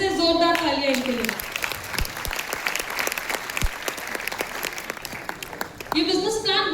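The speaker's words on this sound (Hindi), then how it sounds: "एक बार तहे दिल से जोरदार तालियां इनके लिए" An audience at a gold-level business recognition ceremony bursts into a few seconds of loud, dense clapping, framed by a woman's amplified speech before and after.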